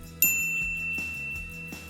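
A bright notification bell dings once, sharp and near, leaving a long ringing tone, with softer rhythmic musical hits repeating behind it.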